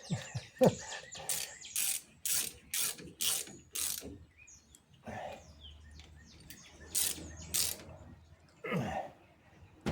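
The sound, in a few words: tightening axle seal bolts on a 1927 Chevy with a ratchet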